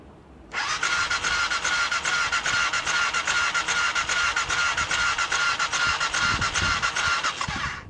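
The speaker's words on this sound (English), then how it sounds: "So it's basically turning the engine." A BMW F650 Funduro motorcycle engine is cranked by its starter motor without firing, a loud continuous rhythmic churning whir that starts abruptly and runs steadily for about seven seconds, close up.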